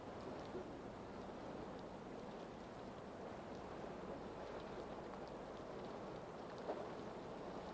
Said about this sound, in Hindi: बरसात शुरू हो गई है।